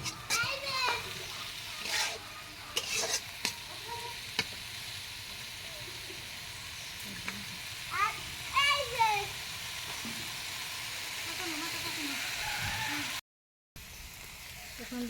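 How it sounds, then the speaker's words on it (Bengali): Potatoes and onions fry quietly in a pan, a faint steady sizzle under scattered stirring clinks, with children's voices and chatter heard intermittently in the background. "আলু ভাজি আর পেঁয়াজটা একটু ভাজা ভাজা লাগবে"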